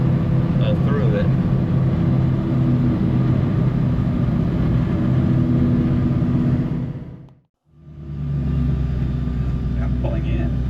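A hot rod pulls in on a road tour arriving in Albuquerque, New Mexico, its engine a loud, low, steady rumble that briefly drops away before returning.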